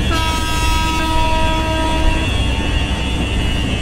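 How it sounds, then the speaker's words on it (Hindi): A locomotive horn sounds loud and sustained in the MSTS train simulator game as the train departs, with a steady rumble of the engine running underneath throughout, no voices present. "अभी हॉर्न बजाकर यहाँ से डिपार्ट करते हैं"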